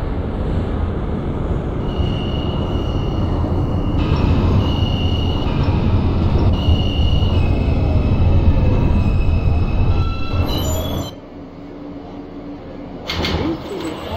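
R160A subway train on the Q line bound for Coney Island, simulated in OpenBVE, rumbling steadily with loud broadband rail noise and whining tones, then dropping quieter near the end with brief clanks.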